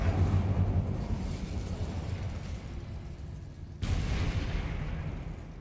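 Fire spell cast during Hogwarts Legacy gameplay: a loud, continuous rumbling roar of flame and blast, sustained for several seconds, then a sudden fresh burst partway through that carries on just as strongly.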